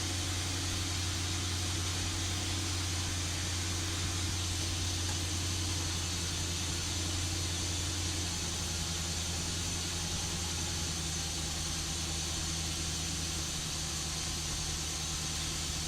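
A 2010 Dodge Challenger SRT8 with the 6.1L Hemi V8 idles at a steady, even hum that drones unchanged throughout, close by and with no voices.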